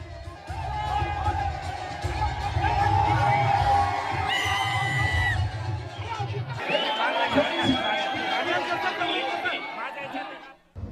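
A crowd celebrates Rangpanchami to dhol-tasha drums, with loud, dense cheering and shouting over a steady low drum rumble. Midway the drumming drops away and higher whoops and excited calls take over.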